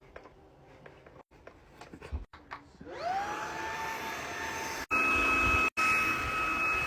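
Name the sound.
Wyze cordless vacuum cleaner running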